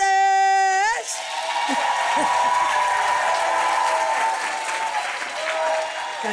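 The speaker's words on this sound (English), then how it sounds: "Ladies and gentlemen, please give the warmest round of applause to Chris Bertish." Studio audience applause on a talk show breaks out after a short musical sting ends, a steady, full round of clapping from the crowd that carries on with a sustained tone running beneath it.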